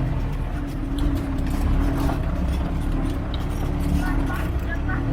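A truck grinds uphill along a road on Sumatra's western route between Bengkulu and Mukomuko, its low engine drone steady and continuous from inside a moving vehicle, with a voice speaking over it.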